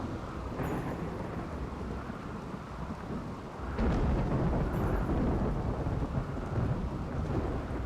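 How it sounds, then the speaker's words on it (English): Rainy thunderstorm in the video game RimWorld: steady rain hisses throughout while a deep roll of thunder rumbles in partway through and swells the sound, with no talking. "Alright, it's a rainy thunderstorm."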